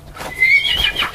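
A horse whinnies on a farm, a thin, wavering neigh rising and falling over about a second, moderately close with faint background hum and no speech.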